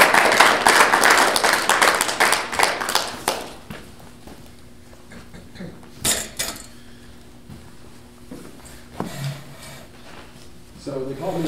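An audience at a Mazon event claps for a speaker as he is welcomed to the stage. A dense burst of applause lasts about three seconds, then fades to quiet room noise with scattered knocks and a voice speaking.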